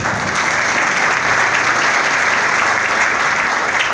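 A crowd at a Marcha Verde gathering in Tamboril applauds loudly, a thick, unbroken wash of clapping that stays level from start to finish.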